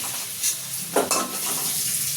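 Potatoes frying in a pan for a chicken chaat dish give a steady hissing sizzle, with a few brief clanks of stirring in the middle.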